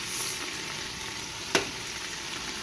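Leeks sizzling in butter in a pan, a steady close crackle and hiss with one sharp scrape of a stirring utensil partway through, no voices.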